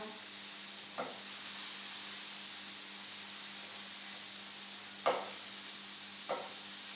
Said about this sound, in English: So we're getting a nice browning already. Just flipping it, allowing the different sides to be cooked through.